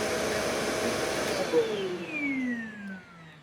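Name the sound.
Shark vacuum cleaner running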